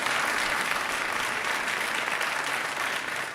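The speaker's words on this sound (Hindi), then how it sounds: "जोरदार तालियां इनके लिए।" A studio audience at a talent show semifinal applauds a performer on stage, with loud, dense clapping that holds steady throughout and carries a faint crowd murmur.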